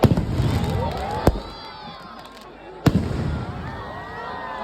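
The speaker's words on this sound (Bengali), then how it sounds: "অসাধারণ আতশবাজি সবসময় বিপজ্জনক।" Fireworks display at a Champahati fireworks show: two sharp bursts about a second and a half apart, each followed by whistling and crackling trails, with crowd noise and voices underneath.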